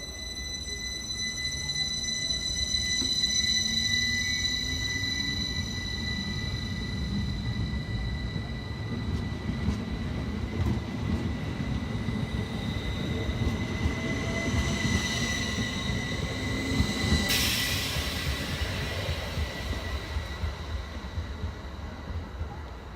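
Class 333 unit 333 011 pulls out of Bradford Forster Square bound for Ilkley, a long steady rumble of wheels and traction with squealing rails and a high electric whine, moderately loud and close.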